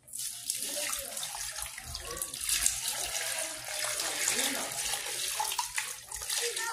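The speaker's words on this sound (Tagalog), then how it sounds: "Lalagyan na rin po natin ng tubig." Water splashes steadily into a cooking pot for crispy pata that already holds garlic, onion and salt, a continuous close pour with a faint voice in the background.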